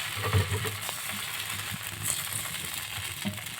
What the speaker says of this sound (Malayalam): ദോശക്കല്ല് ചൂടായി വന്നിട്ടാകുമ്പോൾ ഒരു കവി മാവ് ഒഴിച്ചതാ ഇതുപോലെ പരത്തി കൊടുത്തങ്ങതാ